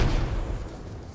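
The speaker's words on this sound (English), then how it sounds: "Leopard 2A6 returns fire and I think kills the whole crew" A Leopard 2A6 tank cannon fires in the military game Squad, one heavy booming blast at the start that rolls off into a low rumbling decay, loud and close with no voices.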